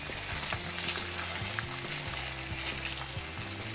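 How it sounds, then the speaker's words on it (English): Cooked onions and pesto being stirred together in a hot pan, a steady broadband sizzle with repeated soft scraping strokes of the spoon, close and continuous without talk. "Now we're going to mix it to blend the flavors."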